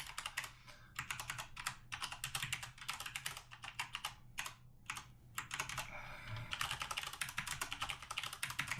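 Rapid clicking of keys on a computer keyboard as a password and email address are entered, steady bursts of close, crisp taps with short pauses between fields.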